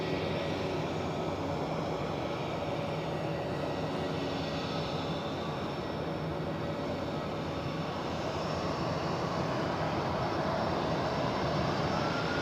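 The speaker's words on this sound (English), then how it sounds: "Got light aircraft zooming over the airfield." Light aircraft flying over an Edinburgh airfield, a faint, steady engine drone that hangs evenly in the distance without a clear rise or fade.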